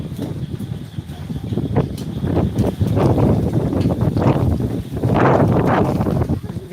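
Strong, gusty storm wind in Vijayawada roars and buffets the microphone in a steady, heavy rush, rising in surges throughout.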